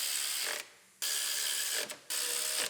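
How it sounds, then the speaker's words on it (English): On a Dodge Journey, a ratchet drives in the bolts holding a power steering pump onto its bracket: three bursts of rapid, close clicking separated by brief pauses. "Bolt it in."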